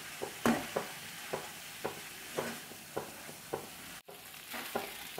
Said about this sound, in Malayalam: ഇത് നമുക്കൊന്ന് മിക്സ് ചെയ്ത് കൊടുക്കാം.